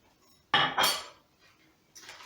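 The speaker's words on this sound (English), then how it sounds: "So then we'll transfer it into this bowl because I'm going to melt it in the microwave." Cut butter is scraped and dropped from a utensil into a bowl, a loud close clatter of metal against crockery followed by a second clink and scrape, then a faint clatter after a pause; no speech.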